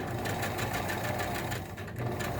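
A sewing machine stitches fabric along a 1/8 inch seam with a steady, quiet motor whir and rapid needle chatter, then back stitches at the end. No voices are heard over it.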